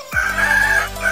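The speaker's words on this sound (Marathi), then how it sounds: "कोंबडा अगोदर उठला आणि नेहमीप्रमाणे जोरात ओरडला" A rooster gives a loud, sustained crow at dawn. The call is a single bright, drawn-out note held steady over a constant background hum.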